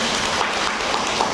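A dense, even patter of many hands clapping fills a gathering hall at Shanti Sarovar in Raipur, Chhattisgarh, sustained for a brief stretch without pause.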